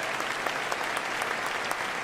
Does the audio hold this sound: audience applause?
yes